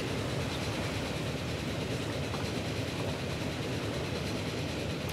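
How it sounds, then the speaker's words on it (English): Video game rail noise from Transport Fever, a train passing along a lakeside line, heard as a dense, steady rumble and rattle of wheels and cars that holds even throughout, with no talking over it. "There's a train."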